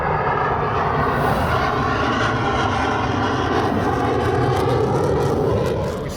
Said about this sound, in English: saw these F-35s on the flight line, and F-16 landed, and one did a flyover.